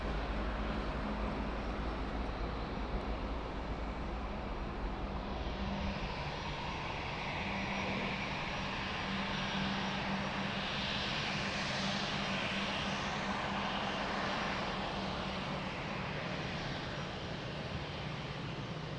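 Airplane landing at Lisbon Airport, a steady, moderately distant engine roar that swells slightly in the middle and holds throughout, with no talking.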